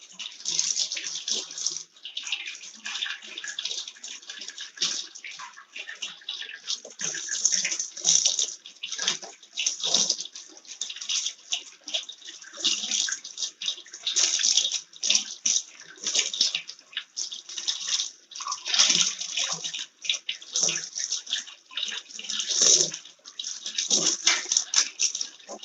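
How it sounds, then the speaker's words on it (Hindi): Vegetables being rinsed under a running kitchen tap, water splashing steadily and continuously for the whole stretch with brief clinks of handling, close and fairly loud. "रनिंग वाटर में हम 2-3 बार वॉश कर लेंगे"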